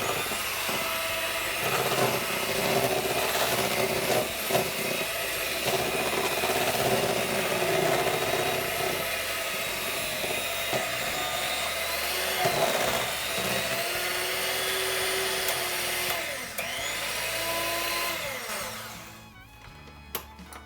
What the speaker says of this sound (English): Now we're gonna grab the mixer and get this cake mix mixed up real good.